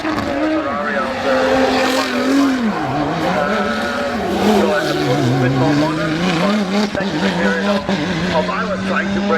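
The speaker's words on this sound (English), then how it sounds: "To the track, we've got the Ford GT Mark IV making its way up" A Ford GT Mark IV race car climbing the Goodwood hill at a festival of speed, a loud engine note rising and dropping through gear changes. A commentator talks over it throughout.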